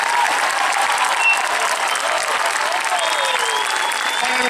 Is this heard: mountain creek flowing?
no